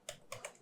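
A few quick computer keyboard taps, three light clicks in under a second, sound close and soft while a username is typed, with no voice.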